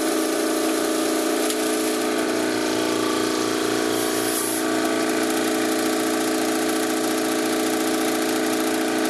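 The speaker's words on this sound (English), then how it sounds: "turn on the air compressor" Air compressor running steadily with a constant mechanical drone and buzzing hum, close and loud throughout without speech.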